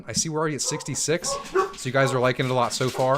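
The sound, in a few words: dog barking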